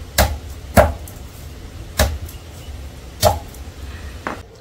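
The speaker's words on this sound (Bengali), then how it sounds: "কাঁঠালের বিচগুলোকে হাফ থেতো করে নিচ্ছে সিলেতে" Jackfruit seeds half-crushed on a stone grinding slab, four or five sharp, heavy knocks spaced about a second apart, close and fairly loud with quiet gaps between.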